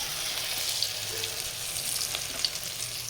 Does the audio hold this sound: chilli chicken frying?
yes